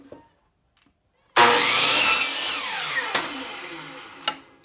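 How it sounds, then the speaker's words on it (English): Chop saw cutting a board to length for lathe tool storage: near silence, then the motor spins up abruptly into a loud whine with a gritty bite as the blade passes through the wood, winding down toward the end. "First, I'll plug in the chop saw. Then I'll cut it to length."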